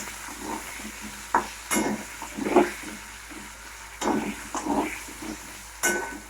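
Potatoes frying in a pan, with a steady low sizzle under repeated scraping stirs of a spatula, a few sharper clatters standing out, close and moderately loud, no voices.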